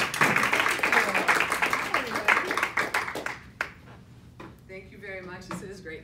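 An audience at a university welcome event breaks into a round of applause, a dense spell of clapping that fades within a few seconds as a voice begins to speak.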